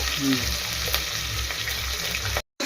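Cumin seeds and curry leaves sizzle steadily in hot oil, a loud continuous frying hiss with a low hum beneath, cut off abruptly near the end.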